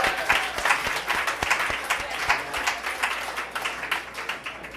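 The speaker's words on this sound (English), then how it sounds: "Let's hear a round of applause" An audience at an evening storytelling event in Portsmouth gives a round of applause for a speaker, a dense, steady wash of many hands clapping together throughout, moderately loud with a faint room ambience.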